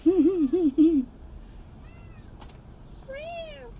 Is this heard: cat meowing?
yes